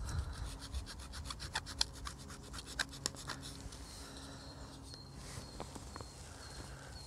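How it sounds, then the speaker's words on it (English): A knife blade scraping and cutting into a cerium ferro rod, producing a steady rhythmic rasp of quick back-and-forth strokes for several seconds, faint and close, which then trails off into quieter scratching. "So, yeah, you can cut it with a knife."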